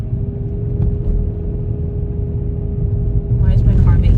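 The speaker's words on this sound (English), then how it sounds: "why is my car making that noise?" A car idles in cold, snowy weather with a low steady rumble and a faint constant whine; a voice starts talking near the end.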